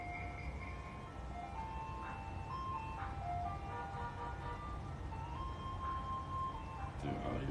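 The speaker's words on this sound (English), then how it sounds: "Another one of these trucks." Ice cream truck passing outside, its jingle melody playing steadily at moderate distance over constant traffic and street noise, with faint talk nearby.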